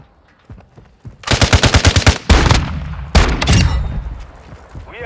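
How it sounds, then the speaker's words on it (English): Loud bursts of automatic gunfire in a Call of Duty: Modern Warfare 2 Domination match, a rapid rattling volley followed by further heavy shots and booms, with faint voices in the background. "Taking heavy fire!"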